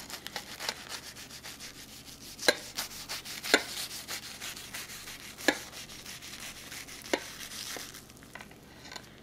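A knife cuts through baked puff pastry topping a cheddar pasta casserole, giving crisp crackling rubs and several sharp crunchy snaps, close and fairly quiet, with no talking.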